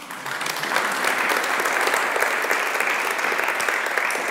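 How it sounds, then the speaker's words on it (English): Steady applause from a workshop audience on personal growth and resilience, dense even clapping that swells in the first second and holds at a constant level throughout, with no talking. "And now I will bow and you can applaud me."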